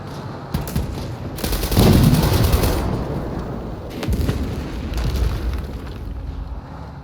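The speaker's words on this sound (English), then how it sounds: "Enemy airstrike fast approaching." Booming explosions from an enemy airstrike in the World War 3 video game, a dense rolling barrage that swells loudest early, then keeps rumbling with scattered gunfire-like crackle before easing off.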